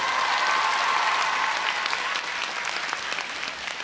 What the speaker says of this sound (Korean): 다시 한번 너무나도 멋졌다고 박수 부탁드리겠습니다.